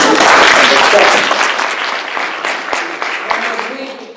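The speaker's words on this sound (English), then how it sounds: "I just want to offer a round of applause for the audience." Loud applause from a conference audience at a retirement conference's closing remarks, a dense burst of clapping that starts strong and gradually fades over about four seconds.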